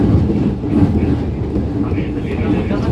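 A commuter train heading to Angke station rumbles along in a steady low drone with faint rhythmic clatter from the wheels, heard from inside the carriage with a muffled voice under the noise.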